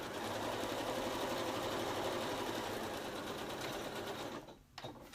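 A sewing machine runs steadily at close range, its rapid needle drive humming continuously for several seconds before stopping abruptly near the end.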